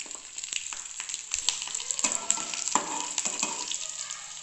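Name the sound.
garlic frying in a pan on medium flame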